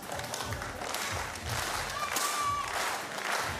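A crowd applauds at the Paralympic mixed 10m air rifle prone final in Paris, giving sustained, moderately loud clapping. The clapping continues under a commentator's voice.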